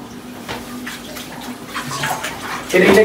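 Water splashes and pours into a tub during a bride's ritual wedding bath, close by, growing louder toward the end, with faint voices in the background.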